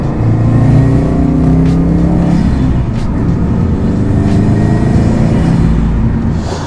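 A Subaru WRX STI with drivetrain modifications is driven, giving a loud, steady road and engine roar with a low whining hum under it from the cabin, constant with no pauses.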